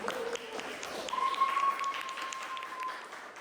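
Students in a classroom give scattered applause for the student groups: a short patter of hand claps at moderate distance, with a voice heard faintly underneath.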